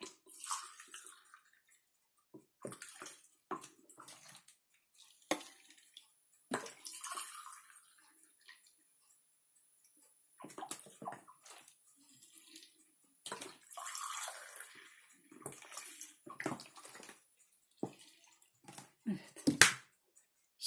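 Vinegar poured from a small coffee cup into jars of homemade Turkish pickles, heard as repeated short splashing pours and trickles, each followed by quiet pauses.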